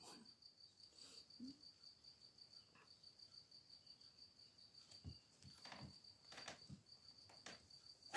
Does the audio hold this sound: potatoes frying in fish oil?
no